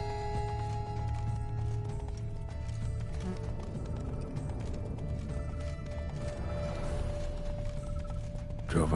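The horse Roach gallops in The Witcher 3 video game, a steady rapid clip-clop of hooves under game music and ambience, with a brief louder crash near the end.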